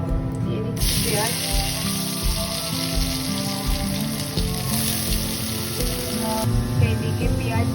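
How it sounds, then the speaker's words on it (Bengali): Onions sizzle in hot oil in a wok with whole garam masala, bay leaves and cumin seeds, a loud, steady frying hiss that runs continuously with a faint hum underneath. "এইদিকে পেঁয়াজ ভাজা হোক"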